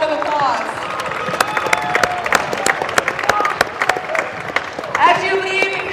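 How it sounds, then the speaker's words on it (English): A basketball crowd at a championship game gives student athletes a warm round of applause. The clapping is dense and steady, with some cheering mixed in, and a voice talks over it. "Please give all of our student athletes one more round of applause."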